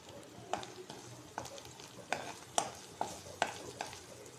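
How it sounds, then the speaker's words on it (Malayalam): Garlic, ginger paste, crushed fennel and curry leaves sautéing in a pan for a clam fry. A soft sizzle runs underneath while a spoon scrapes and knocks about eight times in an uneven stirring rhythm, close by and without talk. "ഇതൊന്നും നമുക്ക് വാട്ടിയെടുക്കാം"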